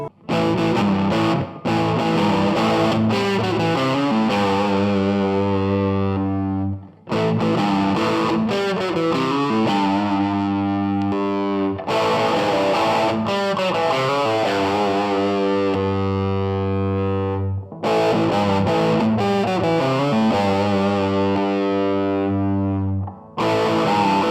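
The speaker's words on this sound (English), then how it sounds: "Now let's try it with some distortion and reverb on." Heavily distorted electric guitar chords ring out in long sustained phrases, each trailing off into a reverb wash before the next strum.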